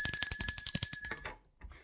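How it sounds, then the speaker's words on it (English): A bell rings rapidly about a dozen times with bright, sustained metallic tones, then stops abruptly, followed by a brief soft thump. "Let's ring the bell, okay?"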